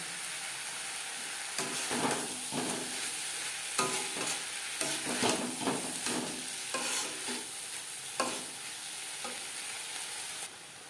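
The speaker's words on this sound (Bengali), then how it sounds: "চিকেন বেশ ভালো করে মিক্সড করে দেব" Minced chicken for homemade patties is mixed by hand in a bowl, giving close, wet squelching and stirring sounds in irregular bursts with no talking.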